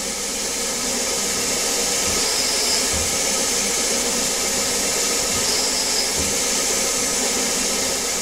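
A small CNC lathe cuts 2-5/16 inch threads for an old BSA, giving a steady, loud broadband whirring hiss with faint repeating ticks, continuous throughout and with no talking.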